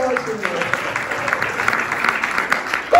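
Applause rings out from a church congregation during a Spanish-language service, sustained clapping from many hands at moderate distance, with a voice rising briefly near the end.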